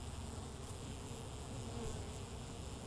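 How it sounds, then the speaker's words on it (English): Dense, steady buzzing of many honeybees around an opened hive during an inspection, close and continuous with no voices. "The sounds of the bee's temperament and what they're up to"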